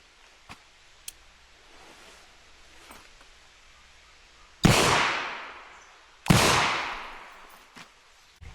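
Two loud gunshots from a British revolver firing black powder cartridges, one in single action and one in double action, each a sharp crack with a long decaying tail, about a second and a half apart, with no speech.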